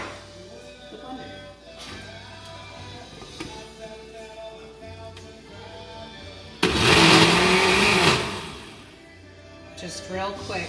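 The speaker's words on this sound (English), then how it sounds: "it's going to be going into the blender." Kitchen blender whirring through eggs and spinach for a quiche, a loud burst of roughly a second and a half that winds down afterward, set between stretches of talk.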